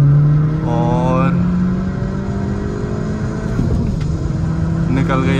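A Skoda Octavia vRS MK3 and a Laura vRS MK2 accelerate hard in a drag race. The engine note rises loud and close as the car pulls through the gears, with a brief dip between shifts.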